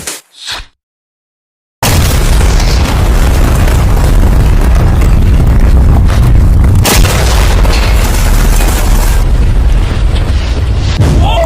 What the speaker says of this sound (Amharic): ይሄ በጣም ከባድ ፍንዳታ ነው።